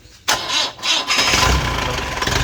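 Diesel Jeep engine with a battery weakened after sitting unused for days cranks and catches abruptly, settling into a loud, steady idle close by, with no talk over it.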